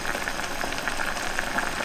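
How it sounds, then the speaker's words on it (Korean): Water with fish in it boils hard in an uncovered pot on high heat, a steady close bubbling and popping with no voices. "이제 뚜껑을 연 상태에서 센 불에 5분 동안 끓여줄게요"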